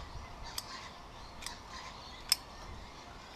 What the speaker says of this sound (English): using a sharp pair of scissors